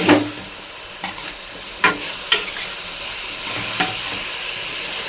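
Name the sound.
stirring raw banana masala curry in pan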